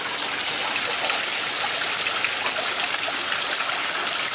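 Waterfall feature at a nature park, a continuous close, bright rush of splashing water with steady hiss and no pauses, no talk.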